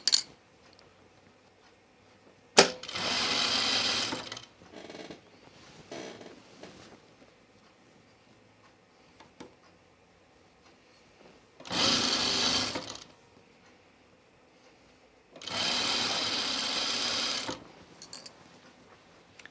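A sewing machine stitching a French seam on a Sophie dress, running in three separate bursts of steady mechanical whirring with quiet pauses and a sharp click between them, close by.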